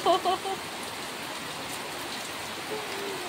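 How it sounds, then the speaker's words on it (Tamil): Heavy rain falls steadily outdoors as a dense, even hiss that fills the whole clip, with a person's voice briefly heard at the start. "இவ்வளோ மழை பெய்யுது ஃப்ரெண்ட்ஸ் பாருங்க. இவ்வளோ மழை."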